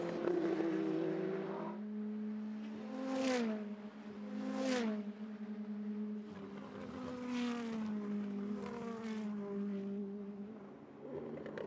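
Race cars battle on track at Mid-Ohio in 2018, their engines rising and falling in pitch as several cars pass in quick succession, with a sustained roar from the pack between passes.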